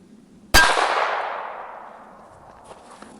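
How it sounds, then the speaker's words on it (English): A single sharp metallic clang as a .22 caliber bullet strikes a duct-taped steel plate, ringing out and fading over about two seconds, followed by a faint distant tap; outdoors, loud and alone. "we hit the plate with 22 there"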